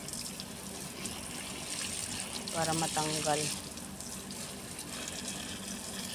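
Water pours steadily over a flowering plant with white blossoms, a continuous close splashing rush with a voice speaking over it.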